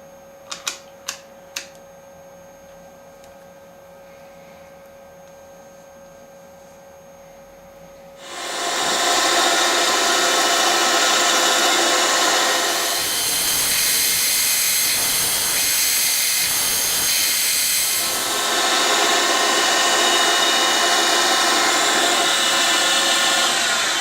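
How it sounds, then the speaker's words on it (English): A short stubby carbide drill bores into brass for a miniature M1911 magazine part, a steady loud hissing whir that starts abruptly after a few clicks and carries on at a constant pitch for over fifteen seconds. "These short stubby carbide drills are very rigid and you can use them without a spotting drill."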